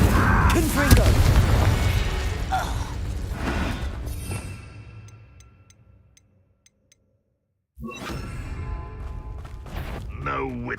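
A Confringo fire blast spell bursts in Hogwarts Legacy. A loud, crackling impact opens, then sizzles and dies away into near silence before another burst of clattering noise erupts.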